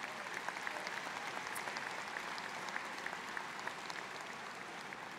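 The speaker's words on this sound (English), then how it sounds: "Give yourselves a big round of applause." A large crowd of graduates claps steadily at a university commencement ceremony, dense continuous applause with no voices over it.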